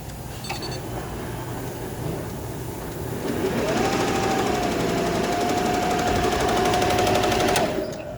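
A commercial embroidery machine stitches a custom design with a rapid, continuous mechanical clatter that grows louder midway as a higher whine joins, then stops near the end; close and steady with no talking.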